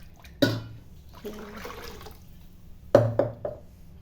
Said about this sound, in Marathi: तर मी अजून थोडंसं पाणी घालणार आहे त्याच्यामध्ये.